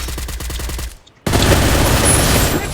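MP5 fire in a mobile shooter game, a rapid run of automatic shots, a brief pause, then a dense, loud, continuous burst of gunfire.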